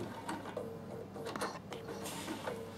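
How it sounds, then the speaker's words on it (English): A Bernina sewing machine runs a blanket stitch over the raw edge of fabric for a produce carry bag, with a steady rhythmic mechanical clatter at close range. "So what I want to do is just blanket stitch this on."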